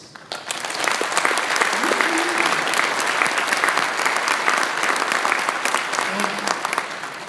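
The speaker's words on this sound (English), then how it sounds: "with your applause, may I now hear your agreement on that recommendation, please." Sustained applause from an opening ceremony audience signalling agreement with a recommendation, dense and steady from start to finish, loud and close, with a brief hum of voices underneath.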